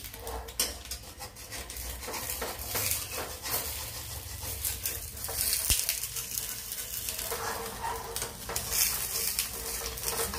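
A fried egg, bullseye style, sizzles in a pan at night in a home kitchen, a steady close crackling hiss with occasional scraping of a spatula across the pan.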